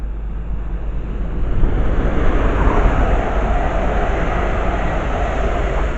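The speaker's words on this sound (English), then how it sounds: "passing through with some 350s from Northampton to London Euston" A Class 350 electric train from Northampton to London Euston passes through Harrow & Wealdstone station without stopping, a loud broad rushing roar that swells and stays strong and continuous.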